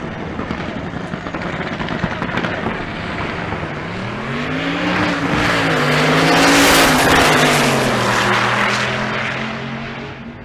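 A Fox Mustang drag race car runs down the track at Bandimere, its engine a loud, sustained roar that swells and sweeps in pitch as it passes, then fades slightly.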